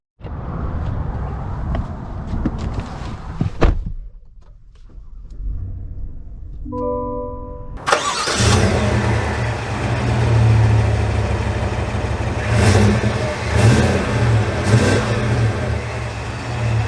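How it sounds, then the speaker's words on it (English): A 2022 Cadillac Escalade engine fires up after a quiet stretch, then settles into a steady, loud interior rumble as the SUV pulls away and drives on, with no talk. "So we are setting off here in the Escalade"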